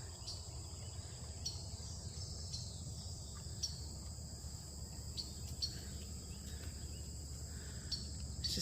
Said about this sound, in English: You hear the insects?